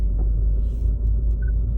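Low engine rumble from a bus and a tractor on the road, a steady deep drone holding throughout with a faint higher whine near the end and no voices.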